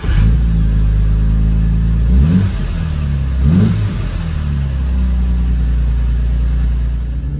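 A Jaguar E-Type engine cranks over, catches and runs, revving up twice with rising bursts before settling into a steady, loud idle.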